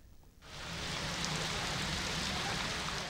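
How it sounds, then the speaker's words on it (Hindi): Steady heavy rain hisses as a broad, dense wash that starts abruptly and holds even and loud throughout, with no voices over it. "गरज चमक के साथ बारिश हुई"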